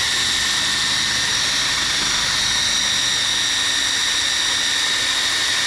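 Electric drill motor driving a kayak, a continuous high-pitched whine with steady rushing noise, loud and unbroken throughout.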